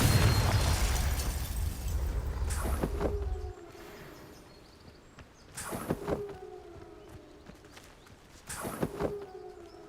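Confringo fire spells in Hogwarts Legacy, a loud rumbling blast fading out, then three sharp explosive bursts spaced a few seconds apart, each trailing off with a ringing, whooshing tail.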